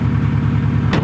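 A Subaru engine, turbo fault recently fixed, idles smoothly at close range with a steady low hum and a brief higher hiss near the end, with no talking.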